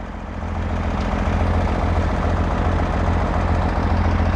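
A tractor engine hauls a trailer loaded with watermelons during the harvest in the Ciénega de Chapala, Michoacán, giving a steady, loud low drone that holds throughout with no voices.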